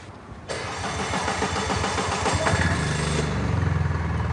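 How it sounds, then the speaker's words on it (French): A license-free microcar's small engine is started with the key, its starter cranking briefly before the motor catches and settles into a steady, close idle, with no talk. "Vous poussez la clé plus loin jusqu'à ce qu'elle soit démarrée."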